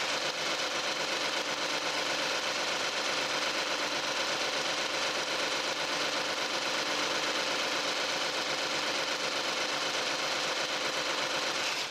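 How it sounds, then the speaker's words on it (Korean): Engine of a Hyundai Genesis DH G33 sedan idles with the hood open, a steady, even hum with fine ticking heard up close for twelve seconds, free of belt squeal or knocking and with no talk. "제네시스 차량 엔진룸 개방해봤습니다. 엔진 소리 한번 들어보도록 하겠습니다."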